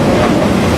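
A train rolls past on the rails on a trip in Thailand, a loud, steady, close rumble with rattling wheel noise filling the whole moment and no voices.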